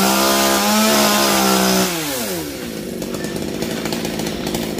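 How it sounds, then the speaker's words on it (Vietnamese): A chainsaw close by and loud, its engine whining at high pitch then dropping as it bites into king palm fronds, continuing to rasp through the cut without talk. "Mỗi lần anh cắt một tàu là anh sẽ máng cái máy cưa và giật cái tàu ra quăng cho nó"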